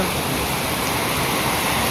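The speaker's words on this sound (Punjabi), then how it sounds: "ਤਿੰਨ ਦਿਨ ਬਾਅਦ ਦੁਬਾਰਾ ਆ ਗਿਆ ਮੀਂਹ" Dense, steady rain pours down in a continuous loud hiss, close by and uninterrupted, with no voices.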